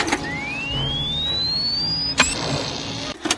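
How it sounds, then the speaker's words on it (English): An electronic sonar-like device from Jaws: The Revenge, an echo device in the water, gives a rising sine-wave chirp that sweeps steadily upward for about two seconds, ends in a sharp click, and is followed by another brief burst. "every time you hit it, it made that sonar sound. Almost like a defib like machine"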